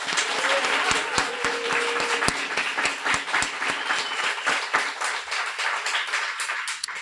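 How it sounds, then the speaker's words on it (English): A large audience applauds graduates of a guide dog school at a graduation ceremony, a steady wash of dense clapping that holds for several seconds with a few brief voices mixed in. "And let's give all of our graduates a very warm round of applause."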